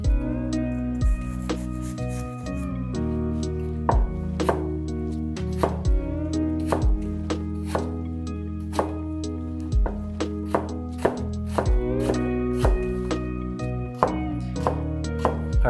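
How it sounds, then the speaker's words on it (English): A knife chops apples on a cutting board for fritters, with close, steady rhythmic thuds repeating over a low background hum. "our next step here is going to be cutting our apple"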